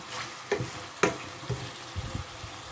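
Meat frying in olive oil in a tagine, with a soft steady sizzle broken by a few stirring clatters and scrapes close by, quiet and without talk.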